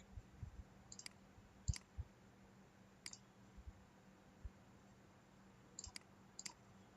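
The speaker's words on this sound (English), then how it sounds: "Double click." Mouse clicks in CATIA V5 CAD software: sharp, quiet paired clicks, with a double click around 1.7 s and further single and paired clicks spread through the seven seconds over faint room noise.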